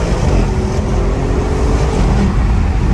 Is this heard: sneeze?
no